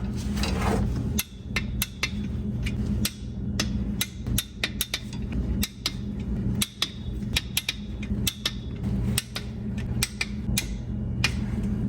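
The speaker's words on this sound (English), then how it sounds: "we'll go around and torque them all to 17 foot-pounds" Steady series of sharp metallic clicks and taps as bolts on a Porsche 986 Boxster clutch pressure plate are torqued to spec with a torque wrench, close and fairly loud, repeating throughout without talk.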